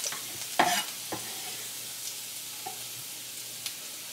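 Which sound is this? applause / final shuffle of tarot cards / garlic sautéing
garlic sautéing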